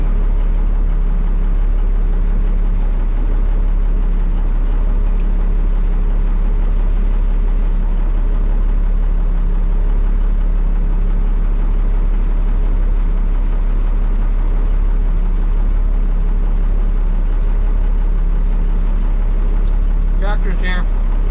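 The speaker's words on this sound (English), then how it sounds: "Tractor's here." A tractor engine runs at a steady idle on a farm, a constant low rumble with a deep hum throughout and a brief rattle near the end.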